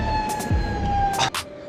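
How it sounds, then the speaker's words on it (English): An ambulance siren on a busy city street, wailing with a steady tone and rising sweeps, fairly close and loud amid traffic and crowd noise. "we got the ambulance right in front of us"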